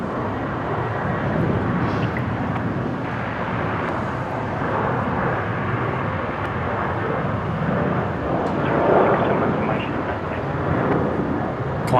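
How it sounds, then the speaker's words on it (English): Qantas airliner taking off from Brisbane runway 19 left, a broad, steady engine rumble from a distance, rising slightly toward the end. "Qantas 533 heading off to Sydney from 19 left"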